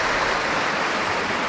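A stream flows steadily beside Rádsky mill on a spring hike near Halič, its loud, close rushing water filling the moment with a continuous broadband wash and no voices.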